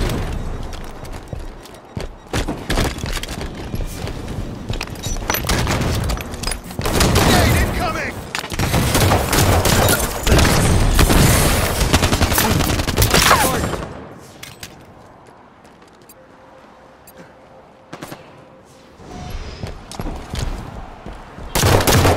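Enemy gunfire in the Halo 5: Guardians video game, dense rattling bursts and booming shots filling the first half loudly, then a quieter lull before more fire resumes, with voices talking over it.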